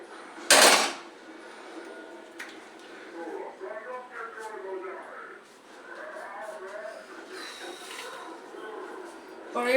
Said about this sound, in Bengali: এবার কড়াইটা বসিয়ে দিচ্ছি।